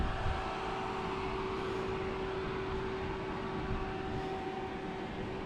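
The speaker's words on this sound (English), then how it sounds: "It's over here sounding like a hair dryer going off." A steady electric whir like a hair dryer runs throughout from a Tesla Plaid on the street, with a constant tonal hum over broadband noise, close and moderately loud.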